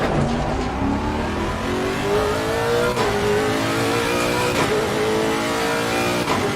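Race car engine in Assetto Corsa Competizione revving steadily with rising pitch, continuous and loud, with brief dips at gear shifts and no talking.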